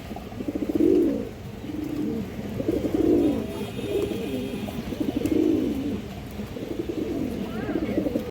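A pigeon coos repeatedly in deep, rolling phrases at a steady pace, close and clear over a low background hum, with faint chirps from other birds.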